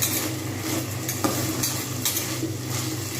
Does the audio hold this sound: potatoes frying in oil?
yes